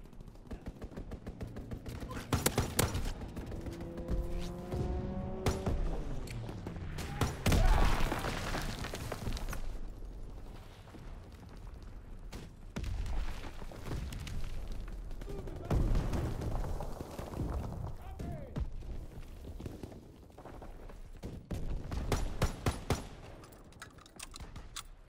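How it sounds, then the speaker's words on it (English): In the Call of Duty: WWII shooter, gunfire bursts from a strafing run rattle in rapid volleys amid heavy explosions and engine drone, loud and chaotic, with brief voice callouts in between. "Strafing run inbound."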